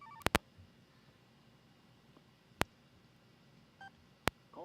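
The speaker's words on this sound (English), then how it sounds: "that little beeping sound that you heard, people, I apologize" Telephone line tones during a call: a few sharp, short beeps scattered over a quiet background, with faint brief tones between them and no talking.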